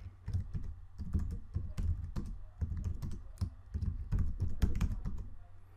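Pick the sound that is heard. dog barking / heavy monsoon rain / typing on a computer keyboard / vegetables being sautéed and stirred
typing on a computer keyboard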